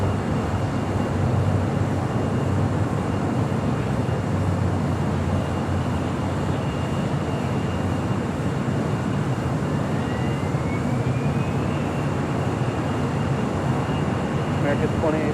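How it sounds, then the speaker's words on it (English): An Air France jet departs from LAX on a south-side runway, bound for Paris. A steady, loud broadband jet roar fills the whole stretch, and a faint rising whine appears near the end. "Very rare Southside departure for Air France,"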